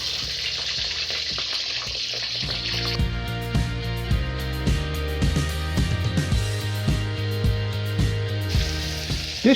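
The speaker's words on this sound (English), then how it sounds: "I'm going to use the same oil to fry up my shrimp" Shrimp frying in hot garlic-infused oil over medium heat, a loud continuous crackling sizzle with scattered pops and a few clattering strokes of the pan or utensil, close and without speech.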